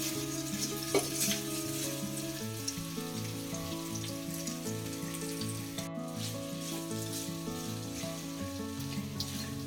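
Vermicelli upma stirred and frying in a pan, a steady soft sizzle running the whole time beneath loud tonal background music, with no voices.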